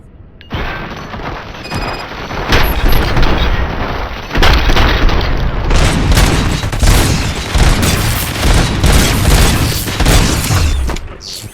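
Dense gunfire and booming explosions fill a Robocop Rogue City fight, with a loud, continuous barrage of rapid shots and heavy blasts lasting about ten seconds.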